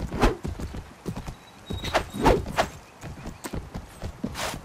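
Hooves of a galloping horse clip-clop in fast uneven beats in the video game Mount & Blade Warband, with a brief whinny and no talk over it.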